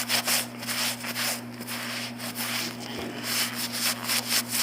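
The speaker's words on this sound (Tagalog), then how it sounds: "pupunasan natin siya ng white towel" A white towel rubs and wipes across a white shoe in quick, steady strokes, a soft brushing scrape repeating close up over a constant low electrical hum.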